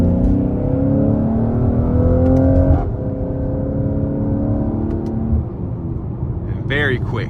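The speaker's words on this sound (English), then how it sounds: "You can hear the exhaust, but just great sound acoustics in here." Engine and exhaust note of a 2023 Mercedes-AMG GLC 43 Coupe with a twin-turbo V6, heard from inside the quiet cabin as a steady low drone that dips midway, under continuous talk.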